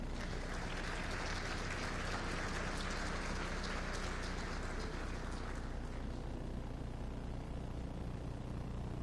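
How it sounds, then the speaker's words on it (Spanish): Broad, hissing applause from a conference audience welcoming a moderator at a climate change session of Congreso Futuro 2020, continuous and fairly distant, with a low hum underneath and the brightness fading in the last few seconds. "Quiero que recibamos con un cariñoso aplauso"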